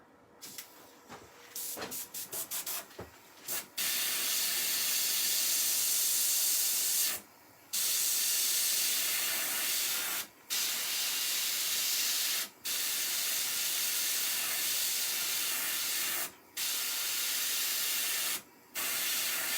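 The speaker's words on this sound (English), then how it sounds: "a bit of green airbrushing just in those little slithers" An airbrush sprays green paint onto a wood-turned Christmas tree, a loud, steady hiss running in long bursts broken by several brief pauses, after a few short sputters at the start.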